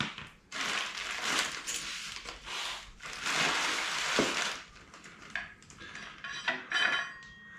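Exedy triple plate clutch discs, friction and intermediate plates, handled and flipped over one by one, giving bursts of metallic clinks and scraping clatter separated by brief quieter pauses, close up with no talking.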